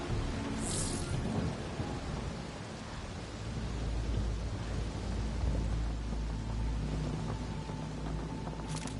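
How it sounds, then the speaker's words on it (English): Thunderstorm downpour on an alien world in Mass Effect Andromeda, caused by a broken atmospheric processor: steady heavy rain hiss with low rolling thunder underneath, sustained and fairly loud throughout, no talking. "there's a broken Atmo processor somewhere that's causing this downpour."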